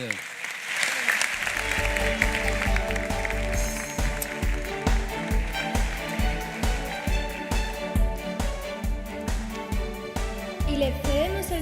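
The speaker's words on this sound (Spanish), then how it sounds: "el aplauso para él." Dense applause from the audience at the 2024 Asturian handball awards gala. It sweeps steadily across the whole stretch, mixed with loud music carrying a steady thumping beat.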